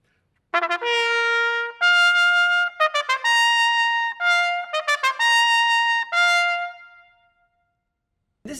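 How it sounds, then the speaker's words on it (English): A trumpet played by a symphony orchestra trumpeter sounds a bold solo phrase of held and quickly tongued notes, bright and loud up close, before trailing off into silence. "The trumpet is the highest instrument, and it sounds like this."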